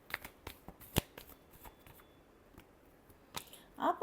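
Tarot cards shuffled by hand in a series of soft, dry riffling flicks and taps, quiet and close, with a brief louder flutter at the end.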